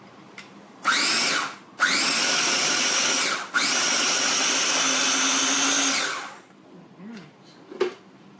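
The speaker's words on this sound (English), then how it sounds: "So I'm just going to give this a good blending." A kitchen blender whirs through a baked oats mixture in three loud bursts, the last one longest, with the motor revving up each time, followed by quiet clinks and small handling noises.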